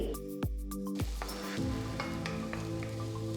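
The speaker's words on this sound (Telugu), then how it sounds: "నూనె వేడెక్కిన తర్వాత ఇందులో ఒక టేబుల్ స్పూన్ అంత తరిగిన వెల్లుల్లి వేయాలి" Chopped garlic hits hot oil in a kadai with a quick burst of sizzling and clinking, then settles into a steady close crackle.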